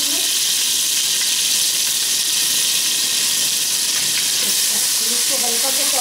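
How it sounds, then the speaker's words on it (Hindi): Garlic-ginger paste sautéing with onions and fenugreek in a pan gives off a loud, steady sizzling hiss, with a few faint scrapes of stirring underneath. "इसको हल्का सा सौते करेंगे"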